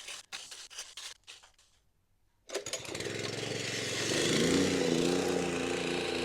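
A petrol plate compactor starts up after a few sharp knocks and then vibrates steadily and loudly as it beds decorative gravel into a plastic matting grid on a driveway, with no talk.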